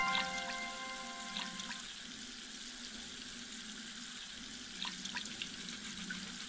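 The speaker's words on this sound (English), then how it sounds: "Let's turn our water on, and we'll take our sponge and clean this off." A running water tap in the cleaning station of Toy Tinker Simulator, a soft steady hiss of flowing water with faint scrubbing sounds from a sponge and a few small clicks, heard alone without talk.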